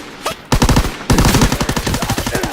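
Loud, rapid bursts of automatic weapon fire in the World War II shooter Call of Duty WW2, with a short pause before a longer sustained burst of rattling shots that stays close and dominant.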